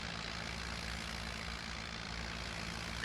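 Farm tractor engine running steadily during wheat and soy sowing with two seed drills, a continuous low droning rumble with a broad hiss on top, fairly distant and even throughout.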